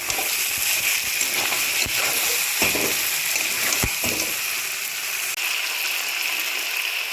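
Mutton sautés with salt in a pan, giving off a steady hiss and sizzle throughout, with scattered sharp clicks and scrapes from stirring.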